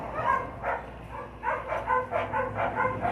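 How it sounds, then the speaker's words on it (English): Dogs bark in short, repeated bursts with some yips and whimpers mixed in, fairly close and moderately loud, with no talking over them. "And even the dogs agree with me."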